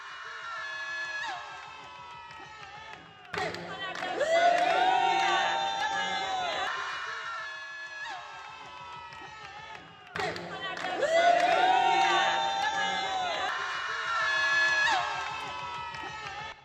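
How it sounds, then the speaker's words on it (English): Sampled crowd of many voices cheering and shouting, layered into a music production loop that repeats twice, loud and dense with whoops over a rhythmic backing. "I stole this sound from like a TikTok just because I wanted to like see what it would sound like with multiple voices and cheering"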